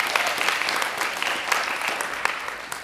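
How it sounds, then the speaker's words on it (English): A live audience at a civic engagement program talk claps in a dense, steady round of applause that holds at an even level throughout, with no voices over it. "So if we could just give a round of applause."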